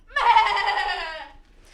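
A human voice imitates a billy goat's bleat, one quavering, wavering cry that rises sharply, holds for about a second, then fades out.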